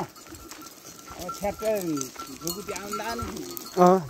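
Sheep and goats being herded toward a forest bleat loudly nearby, several overlapping wavering calls rising and falling, ending in one strong close bleat.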